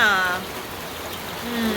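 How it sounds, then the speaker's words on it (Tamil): Heavy rain pours down in a steady, dense hiss that fills the whole stretch, with a voice talking over it at the start and end. "இப்போ மழை வார்த்தா ஊற்றி தள்ளுது"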